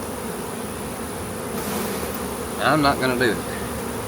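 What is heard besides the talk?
honeybees buzzing as they are shaken off a frame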